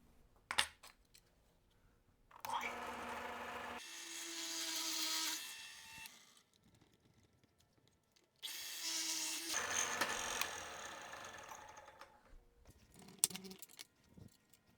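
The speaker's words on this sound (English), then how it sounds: "now we're going to drill these holes using a 7/8 inch spade bit" Two bursts of a power drill with a 7/8 inch spade bit boring through wood, each whining for a few seconds, separated by quiet and scattered clinks of tools.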